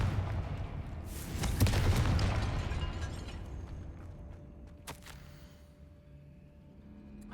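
Spell blasts from Confringo in the Hogwarts Legacy game, a loud burst of booming explosions early on, then a sharp crack near the middle and a fading rumble with a faint tone.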